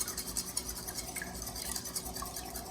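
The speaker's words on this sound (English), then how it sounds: "Whisk this together." Whole milk and egg yolks being whisked together in a bowl, a quiet rapid rhythmic scraping and tapping of the whisk, no talk.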